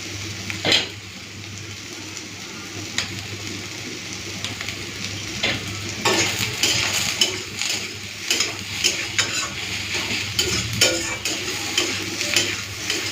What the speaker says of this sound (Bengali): পেঁয়াজ দিয়ে উচ্ছে আর কাঁকড়টাকে একটু লাল লাল করে ভেজে নিয়েছি